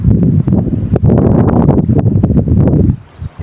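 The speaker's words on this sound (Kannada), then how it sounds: "ತುಂಬ ಗಾಳಿ ಬರ್ತಾ ಇದೆ" Strong gusts of wind roar and buffet the microphone in heavy, uneven bursts before easing off near the end.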